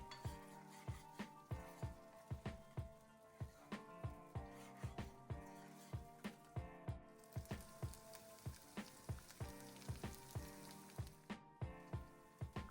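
A paste of ginger, garlic and green chilli fries gently in oil over very low heat, a soft steady sizzle broken by frequent sharp spattering pops and occasional clinks, with no voices.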